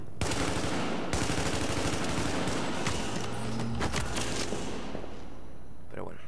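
Rapid automatic gunfire bursts and sharp single shots ring out in the online shooter The Division, dense and loud, with someone talking over the firing.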